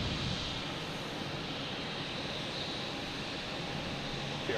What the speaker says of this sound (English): got some JetBlue taking off